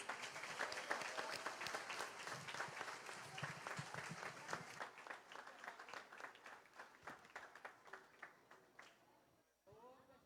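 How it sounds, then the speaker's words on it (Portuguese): Church congregation applauding during a Sunday worship service, dense sustained clapping that gradually thins into scattered claps before fading out near the end. "Glória a Deus, podem aplaudir a Jesus."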